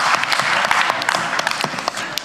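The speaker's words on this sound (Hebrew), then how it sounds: "מחיאות כפיים על התשובה הנכונה." Audience applause for a correct answer at a youth Bible quiz event, a dense steady wash of many hands clapping throughout at moderate loudness, with no talk over it.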